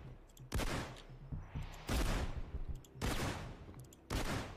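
Modded gun firing in the video game Payday 2, four sharp heavy blasts at roughly one-second intervals, each a loud burst with a brief rattling tail, and no talking over them.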